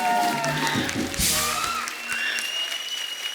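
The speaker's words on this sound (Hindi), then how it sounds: "जोरदार तालियां।" A studio audience claps on a comedy talk show welcoming cricketers Mithali Raj, Jhulan Goswami and Veda Krishnamurthy. The applause is steady and fairly loud, with a few musical tones playing over it as it tapers off.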